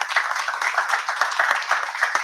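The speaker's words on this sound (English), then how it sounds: "So give yourself a round of applause." Brief, close clapping from a debate audience, with individual hand claps audible in a quick irregular rhythm for a couple of seconds.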